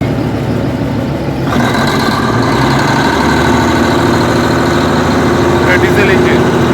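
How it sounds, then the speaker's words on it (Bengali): Diesel engine of a Darjeeling toy train idling at Darjeeling station, a close, loud, steady mid-pitched rumble that steps up in intensity after a moment, with voices in the background. "Diesel engine."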